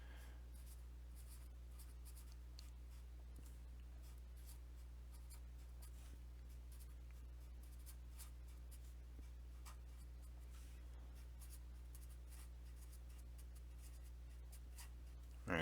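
Pen or marker writing by hand during a math lesson, a continuous soft scratching and rubbing with brief strokes, close but faint over a constant low hum.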